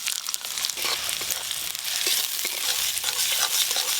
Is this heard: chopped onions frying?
yes